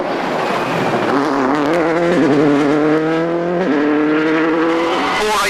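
Remapped Toyota Corolla rally car at a 2005 international rally races past at high speed, its engine screaming loud and close, with rising and falling revs through gear changes over a few seconds.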